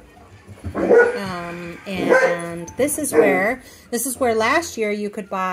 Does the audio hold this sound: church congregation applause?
no